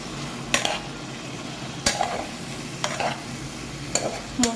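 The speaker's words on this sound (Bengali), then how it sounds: "মশলাটা কষানো হয়ে গেছে, এর মধ্যে এবার ভেজে রাখা চিংড়ি মাছগুলো দিয়ে দেবো" Fried prawns stirred into a cooked-down spice paste for Bengali prawn malai curry, a spatula scraping the pan in sharp, regular strokes over a steady background sizzle, close and clear with no talk.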